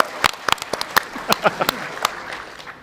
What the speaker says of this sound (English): Can we get a round of applause for Oliver?